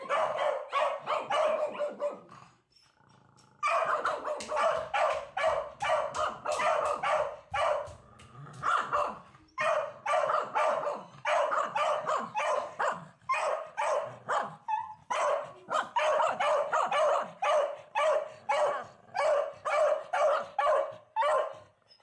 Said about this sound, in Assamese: মই ডগৰ আৱাজ শুনিছোঁ